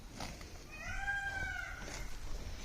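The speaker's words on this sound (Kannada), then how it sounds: "ಈ ಕಡೆ ನೋಡಿ ನವಿಲು ಕೂಗ್ತಾ ಇದೆ" A peacock in an areca nut plantation gives a single drawn-out, nasal wailing call that rises and holds for about a second at moderate distance, over a steady outdoor hiss.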